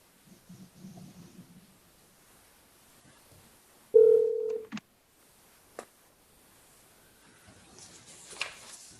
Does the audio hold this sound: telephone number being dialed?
yes